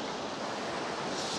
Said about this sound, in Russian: А внизу прям море волнуется, барашки.